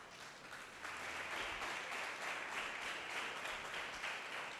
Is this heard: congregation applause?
yes